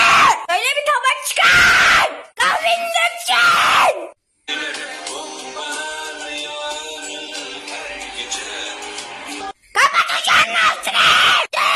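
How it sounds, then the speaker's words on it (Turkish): A person at home alone screams and yells loudly and close up in several long, raw bursts, separated by a stretch of steadier noisy sound before the screaming returns. "Annemler evde yokken benim sonsuz bağırma isteği."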